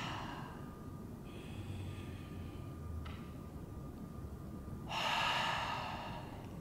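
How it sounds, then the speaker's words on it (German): A person breathes deeply in and out during a yoga session, with slow audible inhalations and a stronger, breathy exhale near the end, set over a steady background hum. "Tief ein- und ausatmen"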